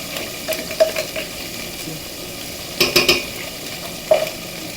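Asparagus and garlic cook in a big pan with a soft background sizzle. A few clinks and scrapes of a utensil stirring come in short clusters near the start, in the middle and at the end, close and fairly quiet, with no talking.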